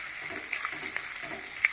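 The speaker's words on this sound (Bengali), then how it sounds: "আমি এখন আলুটা ভাজে নেব" Potato pieces fry in hot oil in a wok, a soft, continuous sizzle with a few sharp pops and crackles scattered through it.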